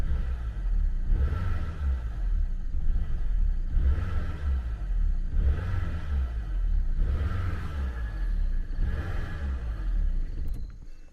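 A car engine runs while its electronic throttle cuts in and out, giving a low rumbling drone that swells and sags in a regular rhythm roughly every second and a half, close and fairly loud.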